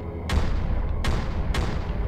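Projectile weapons firing in the space combat game Freelancer, three loud, sharp blasts spaced about a second apart over a dense rumbling background.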